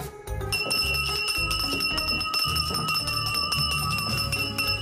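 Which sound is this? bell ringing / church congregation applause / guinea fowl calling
bell ringing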